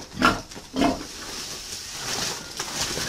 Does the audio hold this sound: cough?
no